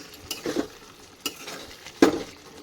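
A spatula stirs coconut prawn curry in a pan, giving three separate scraping strokes over a low, gentle bubbling sizzle, close and without speech.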